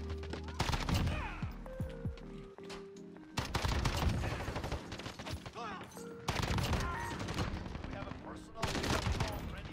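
Assault rifle gunfire in a shooter video game, fitted with a sniper scope, fires in three long rapid bursts separated by short pauses, loud and close.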